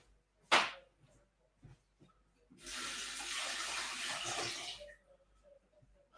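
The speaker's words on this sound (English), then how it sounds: "Just got to rinse this so I can use it." A container rinsed under a running kitchen tap: a brief splash, then a steady gush of water for about two seconds that stops abruptly, with faint clinks around it and no talking.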